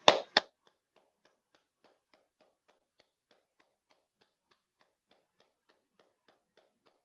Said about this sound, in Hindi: ताली बजा लीजिए।